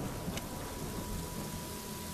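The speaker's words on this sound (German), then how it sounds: "Oh, jetzt regnet es." Rain falling in the video game Yonder: The Cloud Catcher Chronicles, a faint, steady hiss of rainfall with no speech and no distinct drops standing out.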